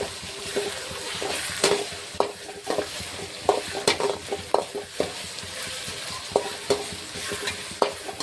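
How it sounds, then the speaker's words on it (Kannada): Onion with ginger garlic paste fries in a pan for egg rice, a soft sizzle running underneath as a spoon stirs and scrapes, sending sharp metallic clinks at an irregular rhythm, close by with no talk. "ಈರುಳ್ಳಿ ಒಂದು ಸ್ವಲ್ಪ ಫ್ರೈ ಆಗ್ಯದ ಶುಂಠಿ ಬೆಳ್ಳುಳ್ಳಿ ಪೇಸ್ಟ್ ಹಾಕ್ಲಕತ್ತೀವಿ"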